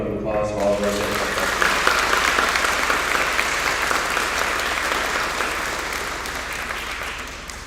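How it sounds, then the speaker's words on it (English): A big round of applause at a graduation ceremony, sustained dense clapping from a large audience that starts right after a brief bit of talk and slowly fades. "Please, one more big round of applause for all of us."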